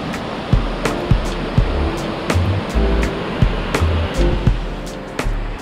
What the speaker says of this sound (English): They have to jump that big waterfall to get up here.